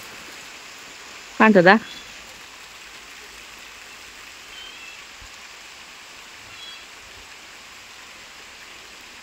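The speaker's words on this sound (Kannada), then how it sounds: "ಮಳೆ ಬಂತು ನೋಡಿ" Rain falls over a village in a steady, even hiss that runs throughout, with a woman's brief spoken question near the start and faint background noises later.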